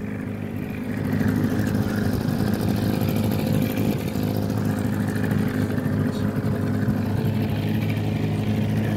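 A fishing boat motors out toward a trolling area on a breezy day, its engine droning loud and steady after a slight rise in the first second, with wind and water noise beneath.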